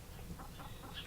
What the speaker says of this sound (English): we've got a few chickens. We've only got 6 of them. They're all young.